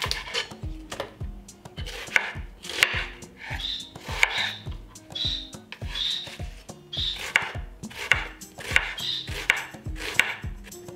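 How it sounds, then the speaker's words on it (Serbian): A knife chops an onion on a board in a home kitchen, with a steady run of sharp, close taps continuing for the whole stretch and no talking. "Dok čekam da voda proključa, iseckat ću jedan luk."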